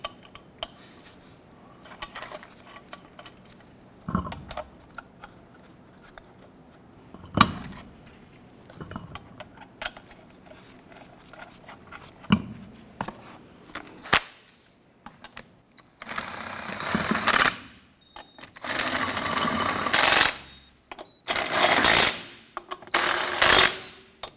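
Lug nuts threaded by hand and then snugged down on a 1993-1997 Ford Ranger wheel: scattered light metallic clicks and taps close by, then several loud, rough rattling bursts toward the end, with no talking.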